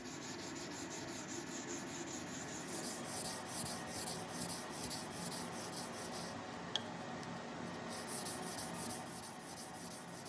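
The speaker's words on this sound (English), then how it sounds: "I'm wrapping sandpaper around a hard block to flatten the blade face" A knife blade is hand sanded with sandpaper wrapped on a hard block, giving continuous close scrubbing strokes that rasp back and forth at an even rhythm, with one sharp tap near the end.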